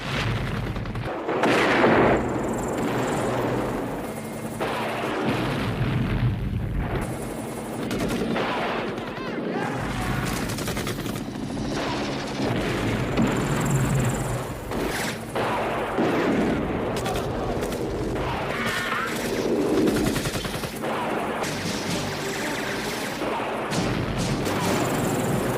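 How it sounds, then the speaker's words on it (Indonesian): Dense bursts of gunfire and heavy booms from a helicopter bombardment roll on continuously in a Rambo: First Blood Part II battle scene, loud and chaotic, with explosions punctuating a steady battle din and faint voices underneath. "Dan membombardir tempat tersebut menggunakan helikopter."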